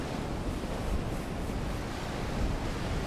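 Ocean surf washes continuously onto a sandy beach, a steady broad roar of waves without breaks or voices.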